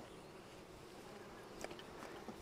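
Honey bees buzz steadily around an opened spring hive, a soft continuous drone with a few individual insects passing close, no voices.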